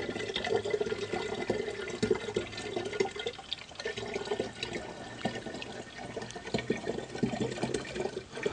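Tap water runs steadily over kefir grains being rinsed in a sink, a continuous close splashing wash with slight changes as the grains are moved, no voices.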